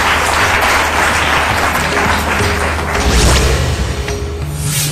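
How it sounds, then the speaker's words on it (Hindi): An audience applauds to welcome a guest astrologer onto a Hindi talk show stage, a steady dense wash of clapping with low thuds and music-like tones underneath throughout. "तालियों से स्वागत कीजिए गुरुदेव का"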